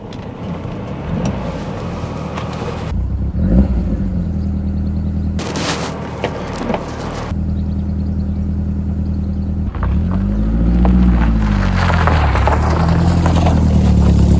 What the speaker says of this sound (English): Getting the Esprit GT3 out on the road.